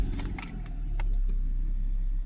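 A car, apparently a compact coupe, rattles with key jangles and clicks before its engine starts and settles into a steady, close idle hum.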